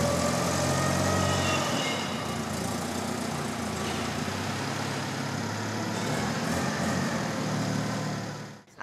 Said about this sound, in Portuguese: Uma empilhadeira foi usada no trabalho de retirada da carga.